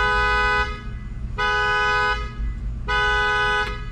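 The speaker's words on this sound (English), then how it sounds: "Car horn went off." A car horn honks three times in sustained blasts of about a second each with short gaps, loud and near over a low rumble of background traffic.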